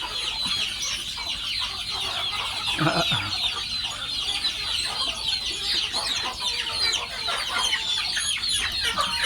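Chickens cluck and call steadily in a coop on a village chicken-raising farm, a busy overlapping chorus of many birds close by, with a brief louder squawk partway through.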